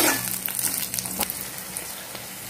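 Onions sautéing with salt in a pan for a spicy chutney give a close, steady sizzle with a few brief crackles and stirring bursts, and no voices.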